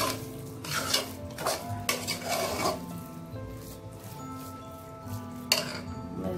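A spoon stirs black rice sweet with jaggery in a metal pot, giving repeated scraping and clinking strokes at an uneven rhythm, close and moderately loud, with a faint background hum.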